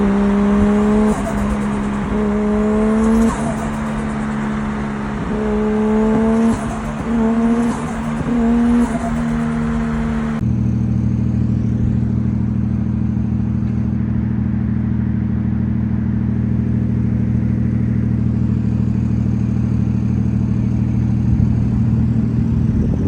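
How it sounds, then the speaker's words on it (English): A Toyota JZX turbo engine revving loud and close in repeated rising and falling bursts, then settling into a steady deep idle with no voices. "And the turbo. What does it sound like?"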